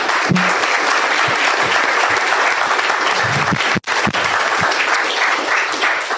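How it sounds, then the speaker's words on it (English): An audience applauds a panel at a seminar steadily throughout, dense clapping filling the room with a brief dip near the middle. "let me get a big round of applause for our panel here"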